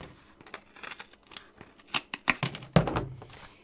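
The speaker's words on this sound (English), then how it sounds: "So we can cut this excess off the top." Excess material being cut off the top of a small faerie house cubby with scissors, a string of soft close snips and crinkles that grow louder toward the end, no talk.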